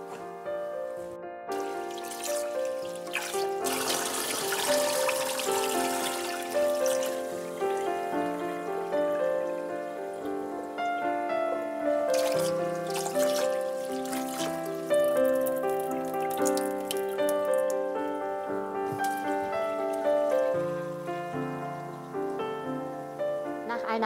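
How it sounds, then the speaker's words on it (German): Water runs and trickles continuously while sticky rice is rinsed several times in a kitchen, an even splashing wash heard alongside steady tonal background music. "Als erstes werde ich jetzt den Klebreis mehrere Male auswaschen"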